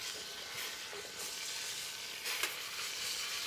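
Lamb sears in a hot pan with a continuous, fairly quiet sizzle, and a few soft stirring or turning sounds come through without any talk.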